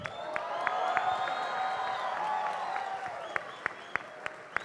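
Crowd at a mixed martial arts cage fight applauds and cheers for two fighters after a bout, steady dense clapping with scattered whoops and a few sharp louder claps near the end.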